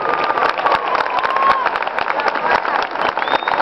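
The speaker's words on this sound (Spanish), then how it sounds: "Para las bailarinas nuevamente se redobla el aplauso" Applause from an audience for dancers at an Arabic dance (danzas árabes) show, a dense steady wash of clapping and crowd noise lasting throughout, with voices mixed in.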